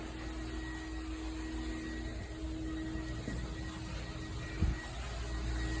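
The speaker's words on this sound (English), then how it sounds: "we're cleaning carpets here" Carpet cleaning machine droning steadily at moderate level on office carpet at a dental clinic, a constant hum with a faint whine and one brief knock near the end, no talking.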